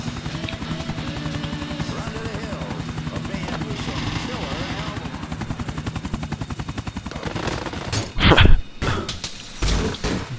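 Helicopter in the video game GTA IV, a steady rotor chop droning throughout, joined near the end by sharp bursts of gunfire or impacts.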